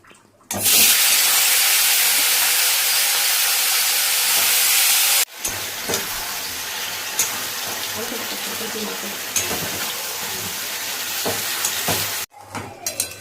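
Mutton dropped into a hot curry pot for a birthday meal bursts into a loud, steady steam hiss, then settles into sizzling and occasional stirring clatter, with a little background voice.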